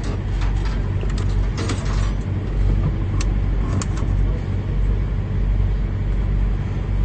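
A car engine runs in a low, steady rumble with mechanical rattling and a few clicking ticks early on, loud and close, continuous throughout.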